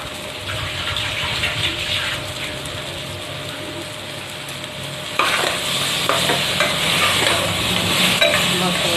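Mustard masala paste with tomato and cumin is stirred and fried in a pan for bhendi curry, a steady sizzle with scraping spoon strokes that grows louder and brighter midway.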